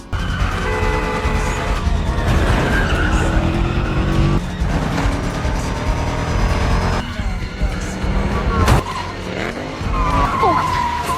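In a film chase, a getaway car drifts hard into a side road and then accelerates away, its tires squealing loudly and continuously over a roaring engine, with some later shrill skids.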